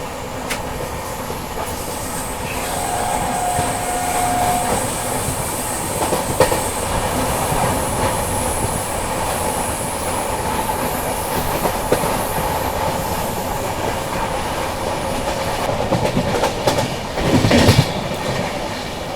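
A Rajdhani Express runs steadily on a long Indian route, its wheels beating a constant clickety-clack with a loud rumble. A brief screech of wheels rises near the end.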